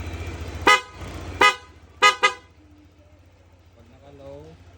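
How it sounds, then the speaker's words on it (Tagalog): A Honda PCX 160 scooter sounds its loud horn in four short, sharp honks over a low idling engine, with people talking faintly around it. "Loud horn."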